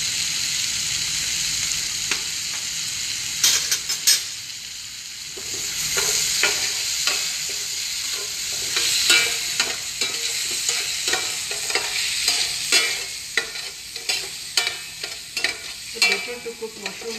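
Mushrooms sizzle in a pan over low to medium heat with red chili powder and salt, while a utensil scrapes and stirs in irregular taps and clinks close by.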